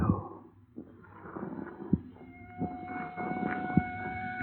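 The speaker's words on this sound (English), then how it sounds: "Even out in the country, they got to lay on those sirens." Police car sirens in a radio drama, wailing in the middle distance with a steady rising and falling tone, joined by low rumbles and scattered thumps.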